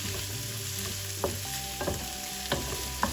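Onions sauté in a pan while a matar paneer dish is cooked, giving a steady sizzle and fry with a few brief stirring scrapes and clinks and no voices.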